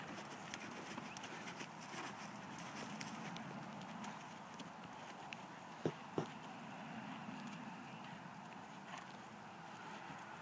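A horse walks during a riding lesson, its hooves giving a faint, steady clip-clop at a distance with a couple of sharper knocks, under a soft indoor background.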